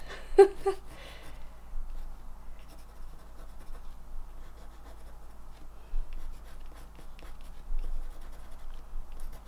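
A pencil colours on paper, giving a soft, continuous scratchy scraping up close that runs steadily throughout, with a brief louder burst near the start and a faint low hum beneath.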